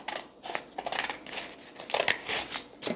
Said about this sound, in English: Make sure you hold the scissors away from your body.